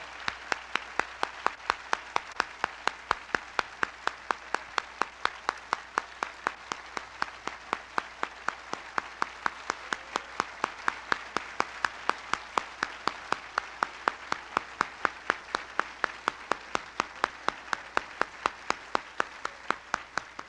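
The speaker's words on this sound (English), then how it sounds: "Let's get the president a big round of applause," An audience at a jazz concert claps for President Reagan, a long rhythmic stretch of rapid, evenly spaced hand claps heard at moderate distance and kept up for about twenty seconds.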